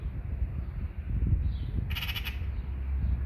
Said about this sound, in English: And that crow is still around.